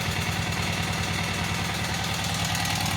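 Rebuilt Kohler KT17 twin-cylinder engine idling right after its first start, a steady, loud, close rhythmic chug with knocking pulses and no talk.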